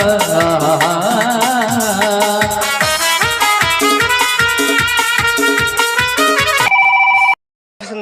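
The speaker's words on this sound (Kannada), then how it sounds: "ಬಂದಾಗಿದೆ ಫೋನು" A loud phone ringtone from a Kannada army-themed stage drama plays a repeating melodic electronic tune, then switches to a brief steady beeping tone before a short silence.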